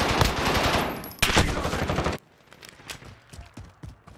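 Rapid automatic gunfire from an AS VAL rifle in a Modern Warfare multiplayer match, loud and near, with two sustained bursts that stop abruptly, followed by scattered quieter distant shots and clatter.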